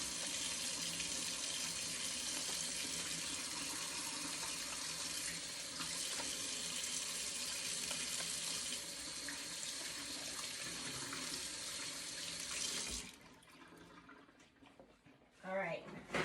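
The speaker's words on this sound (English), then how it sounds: "first I gotta wash my hands before we do anything" Tap water runs steadily and loudly into a sink during handwashing in a home kitchen, a broad continuous rush for most of the stretch before the flow stops, followed by faint handling noises.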